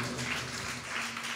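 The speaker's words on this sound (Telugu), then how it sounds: "గట్టిగా కొట్టు చప్పట్లు దేవుని" Congregation at a night fasting-festival prayer meeting claps hands together, a quiet, dense spread of clapping sustained through the moment.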